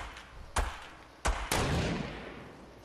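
Three loud, separate gunshots in Fortnite Battle Royale, each a sharp crack with a booming tail. Faint background noise fills the spaces between them, and no one speaks.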